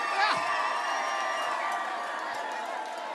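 A crowd at a Dutch carnival song contest finale cheers and whoops with a wash of applause, fairly steady and somewhat distant, a single shout rising near the start.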